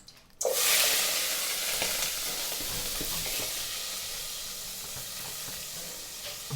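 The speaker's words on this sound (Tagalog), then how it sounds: "ngayon naman magigisa tayo dito ng luya, sibuyas, kamatis at bawang" Ginger, onion, tomato and garlic are sautéed in a pan: a loud sizzle bursts in after a short quiet start, then continues as a steady frying hiss with occasional stirring scrapes.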